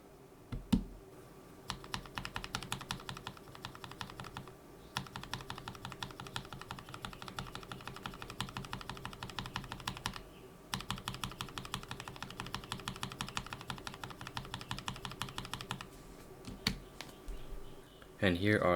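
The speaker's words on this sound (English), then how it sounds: "Now let's try the Novel Keys chocolate switches." NovelKeys x Kailh chocolate cream switches on a keyboard, typed in fast close bursts of clacky keystrokes with short gaps between runs and a brief voice at the very end.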